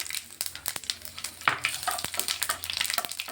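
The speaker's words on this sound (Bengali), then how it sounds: "ভালোভাবে জিরেটাও ভেজে নিচ্ছি।" Whole cumin seeds and a few bay leaves crackle in hot oil. Quick sputtering pops and spatula taps come close and irregular over a soft background sizzle, and no one speaks.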